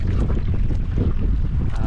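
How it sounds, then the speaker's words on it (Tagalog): Strong wind buffets a small boat on open water, a loud, continuous low roar of gusts against the microphone that fills the whole moment without any clear voice. "Malakas yung hangin."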